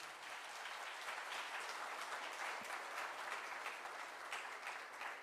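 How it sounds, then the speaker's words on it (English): A seated audience at a sports talk gives sustained applause for chess grandmaster Viswanathan Anand, a broad, even roar of many hands clapping that holds steady throughout. "And big round of applause for Viswanathan Anand"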